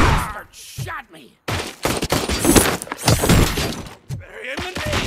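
Gunfire in the RoboCop: Rogue City video game, with dense rapid shots, impacts and breaking noises across most of the stretch, and shouting voices mixed in.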